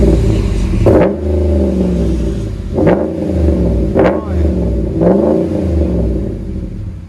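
A 2016 RAM 1500 with a 5.7 HEMI V8 and Magnaflow dual exhaust revs close by, four sharp throttle blips rising and falling over a deep steady idle rumble, with faint voices in the background.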